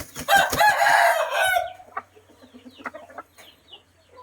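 A rooster crows loudly up close and hens cluck, a Lampang-line breeding pair of Thai fowl; the long crow fills the first second and a half, followed by scattered softer clucks and faint farmyard sounds.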